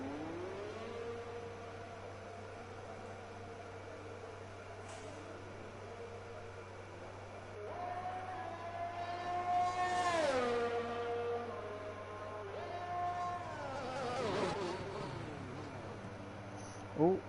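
Racing cars in a video game pulling into a busy pit lane behind a safety car, their engines whining and shifting pitch as several pass close by over a steady background hum.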